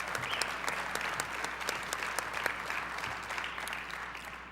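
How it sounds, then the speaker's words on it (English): A crowd at the 2013 Gagliardi Trophy presentation breaks into loud, sustained applause, dense steady clapping filling the room without a break. "I'd like one more round of applause for these 4 gentlemen here"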